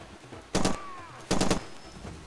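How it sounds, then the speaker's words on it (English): A light machine gun in the Far Cry 2 video game fires two short, loud bursts of rapid shots, each lasting about a quarter second, with a gap between them. "this light machine gun has got some pretty strong recoil"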